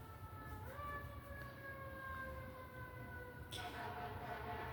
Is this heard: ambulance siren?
yes